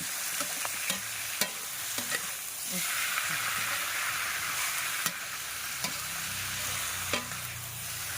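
Cabbage stir-fried with fish sauce sizzles steadily in a hot pan, a continuous hiss broken by sharp clacks of a utensil scraping and tossing, close and fairly quiet, with no voices.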